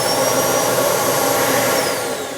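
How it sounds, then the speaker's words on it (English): A built-in vacuum cleaner beneath the cabinetry of a Forest River R-POD 195 travel trailer runs with a loud, steady, high-pitched whine and rushing airflow, close by and alone, tapering off slightly at the end. "one cool feature that I really like about this is it comes with a built-in vacuum underneath"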